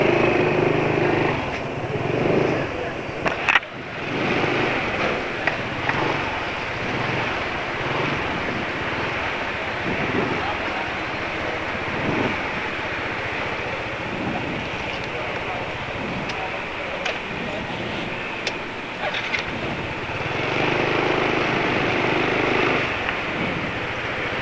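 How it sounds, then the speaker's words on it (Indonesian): An automatic scooter engine running rough drones steadily over broad rushing road and wind noise, with no clear idle rhythm standing out. "Tapi bahkan tadi waktu isi bensin aja suara mesin sudah kasar ya."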